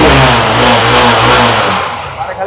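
A Bajaj Avenger 150 cc motorcycle engine revs loudly and steadily up close, then eases off toward the end with a few uneven throttle blips.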